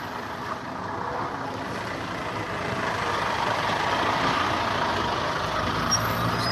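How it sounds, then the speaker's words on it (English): A truck engine idles steadily and fairly close outside a cow slaughterhouse, a low continuous rumble that swells slightly toward the end with no voices. "There's a truck here,"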